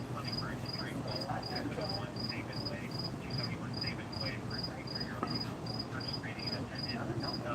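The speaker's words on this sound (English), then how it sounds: "Crickets are loud." Crickets chirp loudly and steadily on a warm night, a regular high pulsing trill running throughout over a dense background of other insects and faint distant noise.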